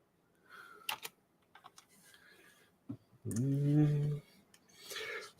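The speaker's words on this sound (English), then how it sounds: "We'll get Clack typing away on that." Keys on a computer keyboard click in short, scattered bursts during a live Sunday night show, with a loud tonal voice-like sound rising briefly in the middle.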